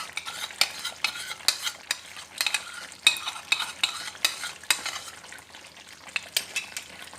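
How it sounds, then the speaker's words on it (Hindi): Whisked yogurt goes into chicken white karahi frying in a pan, with a spoon scraping and stirring in quick, irregular strokes over a soft sizzle, close and clear with no talking. "अब इसके अंदर मैं दही डाल रही हूँ।"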